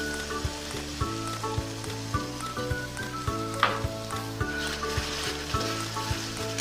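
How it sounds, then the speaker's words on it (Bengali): Onions frying with ginger garlic paste (about 50 g ginger and two large garlic bulbs) for a Bengali chicken curry, a steady close sizzle with occasional stirring scrapes over a constant rhythmic background beat. "আদা রসুন বাটা দিয়ে আমি 5 মিনিটের মতো আরও কষিয়ে নেব।"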